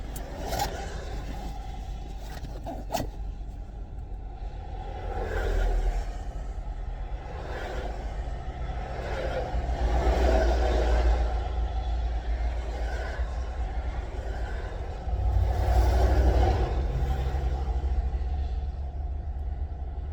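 Steady low road rumble fills the cabin of a moving car, with the drone swelling louder at moments and faint scraping noises over it, heard from inside.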